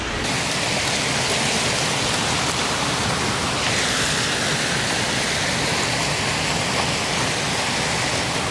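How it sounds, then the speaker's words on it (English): A roaring waterfall on Kauai, Hawaii, mixed with light drizzling rain, makes a dense, steady, loud rush of noise throughout, with no voices. "It's just lightly drizzling, but it might sound louder because of the waterfall."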